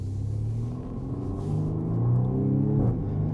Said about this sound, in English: It is a 4-cylinder turbocharged engine, but that exhaust note sounds really good.